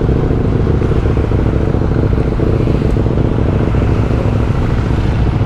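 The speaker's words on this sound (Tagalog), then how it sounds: "Ang ingay kasi ng motor ko." A KTM Superduke 1290R motorcycle engine runs loud and close, a dense steady rumble with clattery texture throughout and no voices.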